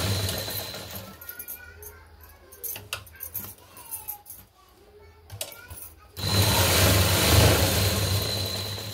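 A sewing machine stitches a blouse, running loudly and steadily for the last few seconds after quieter clicks and background voices.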